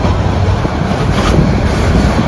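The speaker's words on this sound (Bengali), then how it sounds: "ট্রেনটি ছেড়ে যাচ্ছে কমলাপুর স্টেশন থেকে আমাদের গন্তব্য স্বপ্নের শহর কক্সবাজার।" Cox's Bazar Express train pulling out of Kamalapur station at night, a loud, steady rumble of rolling wheels and rushing air that holds even and close for a couple of seconds before cutting off.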